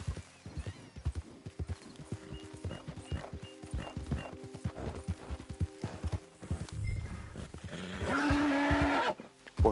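Horse hooves clip-clop in Red Dead Online on PS4, a rapid run of distinct hoofbeats that gives way to a louder whinny-like burst near the end, with no talk over it.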